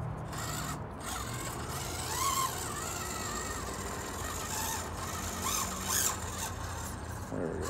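A small SCX24 C10 RC crawler's motor and gears whine and strain on slightly larger tires, a faint, steady mechanical whir with squealing rises and ratcheting clicks up close, with no talking.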